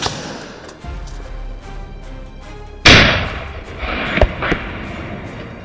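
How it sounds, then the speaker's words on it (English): Gunfire aimed at an invasive wild boar on farmland: a sharp, loud crack bursts out after a quieter stretch, and a second short report follows about a second later, with rustling in between. "Several gunshots rang out in quick succession."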